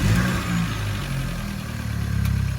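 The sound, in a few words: car engine revving, 2017 Chevy Malibu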